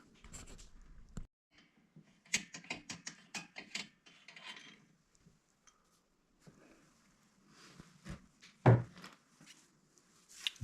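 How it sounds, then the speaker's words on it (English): Wrench working a part loose on a homemade firewood machine with a 277cc engine, close metallic scrapes, clicks and rasping turns in scattered bursts with a sharp clank near the end. "So we have wrench, and we're going to take this one out."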